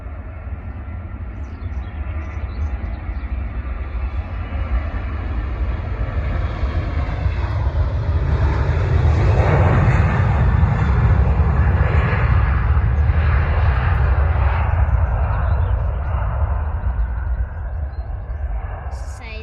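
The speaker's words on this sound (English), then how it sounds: "So we've got Ryanair, Boeing 737, taking off." Ryanair Boeing 737 jet taking off at an airport, a deep rumbling roar that builds to a loud peak in the middle and then slowly fades as the aircraft climbs away.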